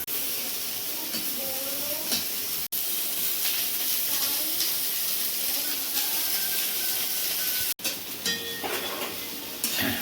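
Eggplant pieces fry in hot oil in a home kitchen, a steady broad sizzle and hiss running throughout with occasional clinks of utensils against the pan.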